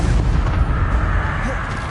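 A Confringo blasting spell in the wizard game Wizrd erupts in a loud, deep, rumbling explosion that rolls on for a couple of seconds, with a voice mixed in.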